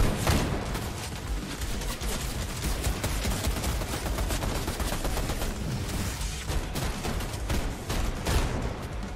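Sustained rapid gunfire from a Fortnite match, dense bursts of shots and machine-gun rattle running loud and continuous for the whole stretch.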